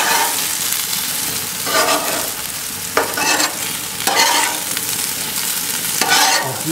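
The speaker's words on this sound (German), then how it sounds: "Mal schauen, was unsere Bratkartoffeln machen." Fried potatoes sizzle steadily in a pan, a dense hiss with occasional louder crackles and scraping stirs, fairly close and loud throughout with no talking.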